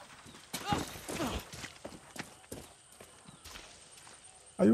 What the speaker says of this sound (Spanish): Hay un caballo ahí